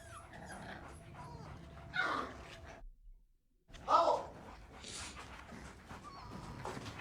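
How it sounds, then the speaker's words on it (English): A small dog whimpers and yips in short bursts, fairly close, with a brief silent gap midway and faint background voices. "There's a puppy."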